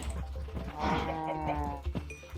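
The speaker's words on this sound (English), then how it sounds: "So we now have a cow farm." Cows on a farm in the Minecraft video game give a few low, drawn-out moos close by, with soft background game noise and no talk.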